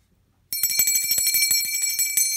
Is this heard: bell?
yes